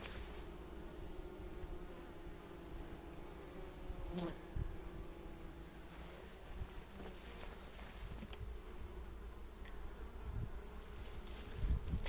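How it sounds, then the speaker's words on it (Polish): Honeybees busy at a hive in an apiary in early September, flying in with pollen, make a faint, steady buzz with individual bees droning close past now and then, outdoors with light wind. "Widać pszczółki pracują, znoszą pyłek."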